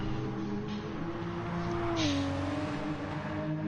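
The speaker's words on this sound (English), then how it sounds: "seeing if he's revving it all the way out" A race car engine in a racing video game holds a high, steady drone, shifting pitch once midway as it revs near the limit, loud and continuous with no voices over it.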